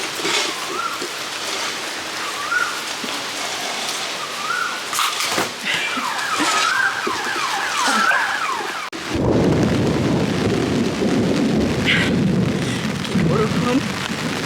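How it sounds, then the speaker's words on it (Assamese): A heavy downpour falls steadily during the rainy season, with a loud crack and low rumble of thunder partway through, after which the rain deepens into a dense, close roar. "বৰষুণ ঢেৰেকনি মাৰিছে"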